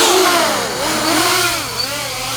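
A NURK Edition 9-inch Merica drone's motors rev at about 30% throttle, giving a loud, continuous high-pitched whine that swells and dips in pitch over a couple of seconds, close to the mic with no talking.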